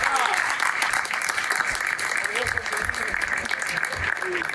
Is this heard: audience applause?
yes